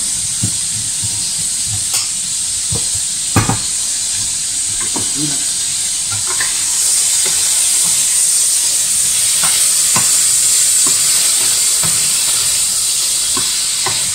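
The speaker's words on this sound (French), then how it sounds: "Je remets pas d'huile, je ne lave pas le wok, c'est pas la peine. Et je vais faire suer les oignons." Onions sweat in an old, unwashed wok with no added oil for a garden-vegetable ratatouille, giving a steady hissing sizzle punctuated by scraping and knocking of stirring, growing slightly louder partway through.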